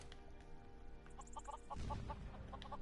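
Chickens in a modded video game cluck in short, repeated bursts, fairly faint at first, followed by a thudding impact of combat.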